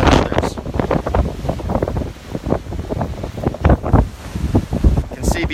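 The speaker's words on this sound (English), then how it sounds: "You can see behind me the wind cresting over." Strong gusts buffet the microphone beside Wachusett Reservoir in a winter storm, with loud, continuous roaring rumble and surging blasts that swell and ease, near and overwhelming throughout.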